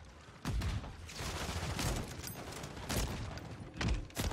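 Bursts of video game gunfire thud and crack in quick clusters over a dense, noisy battle din, several heavy shots standing out near the start and end.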